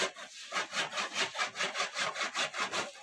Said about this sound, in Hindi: एक कठवा बढ़ा है तो आरी से काट रहे हैं।